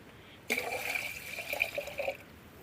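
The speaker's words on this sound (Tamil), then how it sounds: "தண்ணி ஊற்றி ஊற வச்சுக்கலாம்" Water is poured over cleaned pearl millet in a vessel to soak it for paniyaram, a steady splashing pour lasting under two seconds and close by, with no talk over it.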